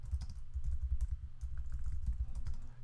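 A computer keyboard typed on in quick, continuous bursts of soft close clicks and thumps, with no voices over the keystrokes.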